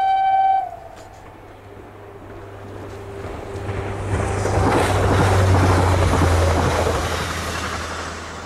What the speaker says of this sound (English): the ST Energia TEM2 from earlier departs as well